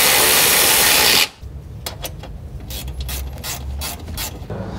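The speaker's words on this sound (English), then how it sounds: "don't forget to tighten up the bolts you loosened up earlier." A ratchet tightens bolts during an E85 conversion kit install on a 2013 Subaru WRX. A loud continuous mechanical whir stops abruptly, then comes a run of quick, close clicking ratchet strokes with metallic ticks and no talk.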